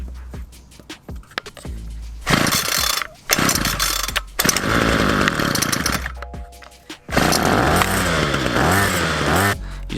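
A Homelite 25cc curved shaft string trimmer engine is pulled over a few times with sputtering bursts, then catches and runs loudly, its revs rising and falling with the throttle.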